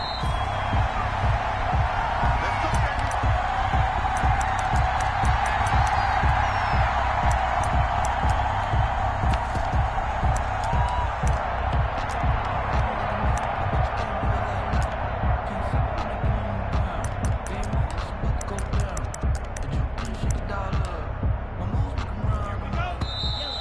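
Stadium crowd noise from a PS4 football video game, an Atlanta Falcons versus New York Jets matchup, roars steadily throughout with dense rhythmic thumps and clatter, while a commentator's voice talks over it.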